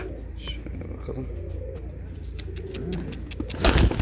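Kanat posta pigeons coo softly and intermittently at close range, with rustling and a brief louder flutter or bump at the end.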